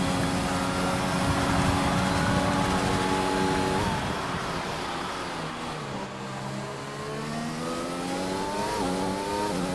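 Several racing car engines from a sim racing game rev steadily on an outlap, a Renault and a McLaren among them, with harmonic pitch sweeps rising and falling as the cars shift and accelerate, loud and continuous with no talk.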